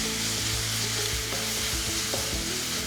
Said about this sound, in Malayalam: ഇഞ്ചി, വെളുത്തുള്ളി, പച്ചമുളകിൻ്റെ ഒക്കെ ആ റോ സ്മെല്ല് പോകണം, പച്ചമണം മാറണം. അതുവരെ ഒന്ന് വഴറ്റിയെടുക്കുക.